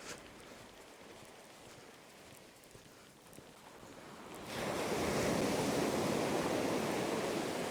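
Winter sea waves roll onto a beach, a steady broadband wash that swells louder and closer midway through, with some wind buffeting and no voices.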